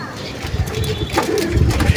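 Pigeons kept at home, a newly hatched chick and its mother sitting nearby, give soft low coos close by amid faint background sounds.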